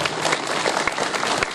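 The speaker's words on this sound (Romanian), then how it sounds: "Aplauze, vă rog frumos" Applause from the audience at a gas station inauguration in a Romanian commune, steady dense clapping throughout, fairly close and loud, with no speech over it.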